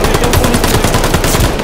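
Rapid bursts of loud gunfire in Call of Duty: Vanguard, dense repeated shots close up, with faint talk mixed underneath.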